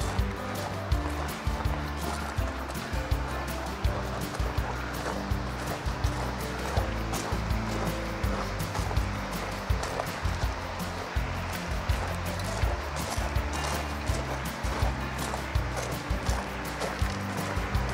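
A river runs beside a riverside auto campsite in the Doshi area of Japan, its steady broadband rush of flowing water continuous and fairly close, with faint knocks and rustles on top and no speech.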